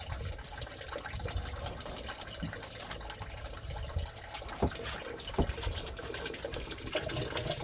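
Water draining from the water pump hose of a MerCruiser boat engine during winterizing, a steady trickling, splashing flow with a few small clicks and knocks, moderately faint and without talk.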